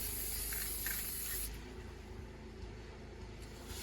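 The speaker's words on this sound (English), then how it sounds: "I don't know if I'm supposed to spray less at a time" Aerosol spray paint hissing onto a sanded motorcycle rear rack for a Yamaha YTM200, one continuous close spray burst that cuts off midway, leaving quieter background noise.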